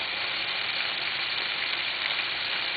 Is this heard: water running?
no